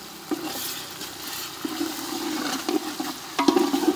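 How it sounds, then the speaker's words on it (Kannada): Ginger garlic paste fries for a country chicken dish outdoors near a temple, a steady moderate sizzle with repeated scraping and clanking of a ladle stirring in a large pan; no voices. "ಇದನ್ನು ಚೆನ್ನಾಗಿ ಹಸಿ ವಾಸನೆ ಹೋಗೋವರೆಗೂ ಫ್ರೈ ಮಾಡ್ಕೊಳ್ಳಿ"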